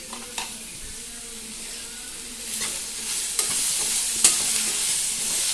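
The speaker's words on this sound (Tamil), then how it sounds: "கொஞ்சம் நல்லா வதங்கட்டும்" Onions sautéing in a pan with tomatoes for onion chutney make a steady, close sizzling hiss, with a few sharp scraping stirs of a spoon.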